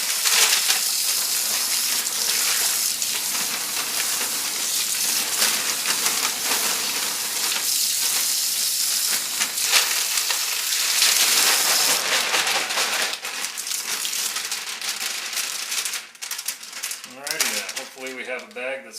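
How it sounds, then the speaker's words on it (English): A water sprayer rinses soap out of a dry bag, a constant loud hissing spray that shifts and breaks up toward the end, with a voice speaking over it. "Use the sprayer down in there a little better."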